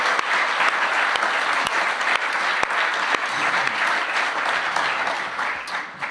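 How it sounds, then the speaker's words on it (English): Audience applause at a live folk concert at Old Songs, a dense steady roar of clapping with cheers that holds loud throughout. "Huge round of applause to Dave"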